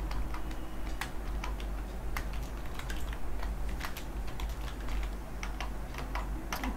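Steady clicking of keys typed on a computer keyboard while entering names in an Excel spreadsheet, close and continuous with irregular keystroke rhythm and no talking.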